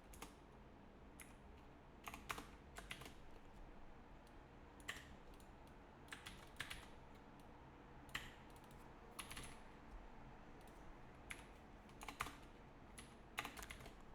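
Typing on a computer keyboard, a steady run of quiet, irregular key clicks with occasional louder taps, heard close against a faint background hiss.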